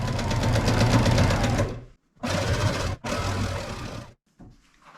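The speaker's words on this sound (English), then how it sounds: "just continue sewing without taking" A sewing machine chain-pieces quilt border strips sewn right sides together with a quarter-inch seam, running close and loud in three quick bursts separated by short pauses, then a faint brief whir at the end.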